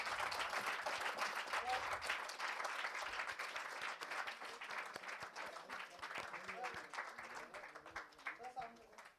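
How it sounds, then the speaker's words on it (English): A large crowd at an Atal Innovation Mission ten-year celebration in India claps in sustained, dense applause that fades a little over several seconds, with a voice over the public address heard beneath it. "Can we have a huge round of applause from the crowd?"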